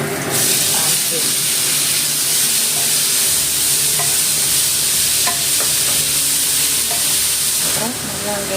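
Pumpkin frying in a pan with ginger and garlic, a steady loud sizzle and hiss with occasional clinks of stirring throughout.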